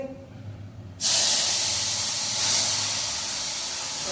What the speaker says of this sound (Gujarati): આપણે અથાણાની દાળનો વઘાર કરી નાખ્યો